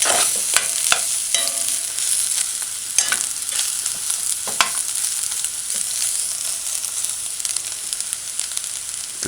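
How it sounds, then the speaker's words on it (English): Veggie chunks stir-fry in a little oil, giving a continuous close sizzle broken by repeated scraping and clacking strokes of a utensil against the pan as the pieces are tossed. "After a minute, just kind of stir fry."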